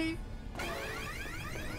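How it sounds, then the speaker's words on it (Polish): Video game alarm from FNAF: Security Breach: a high electronic tone cuts off, then a rising, repeating warbling alarm sweeps loudly over game noise. "Alarm, alarm."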